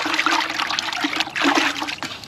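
Hands slick with fish slime swish and splash in a bucket of water, close and continuous with small irregular sloshes and trickles.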